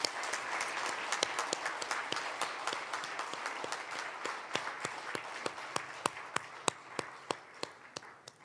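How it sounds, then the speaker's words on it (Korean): A hall audience applauds at the 2021 Korean National Prayer Breakfast, clapping densely at first. The claps then thin into sparser, sharper individual claps as the applause winds down over about eight seconds. "다시 한번 큰 박수 부탁드립니다."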